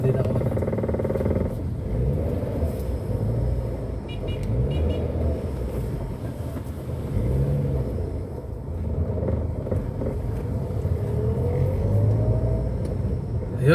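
A car on a congested road making a U-turn: a steady engine rumble and road noise fill the whole stretch, heard from inside the vehicle, with faint traffic around.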